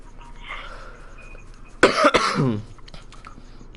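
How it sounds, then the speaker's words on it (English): A man coughs a couple of times in quick succession, a harsh, close burst rising from a quiet background, then fading into light throat sounds. "My cough is kind of bad."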